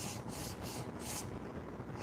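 Sandpaper of 150 grit on a small sanding block rubs across a wooden cutting board in steady, gentle back-and-forth strokes, a continuous close-up scratchy hiss with soft periodic swells and no talking.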